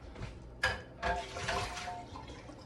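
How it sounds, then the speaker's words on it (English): Pre-cooked shrimp dropped into a pot of seafood, sausage and chicken gumbo make two quick wet splashes close by, followed by a soft liquid slosh as it settles. "So we're adding our shrimp."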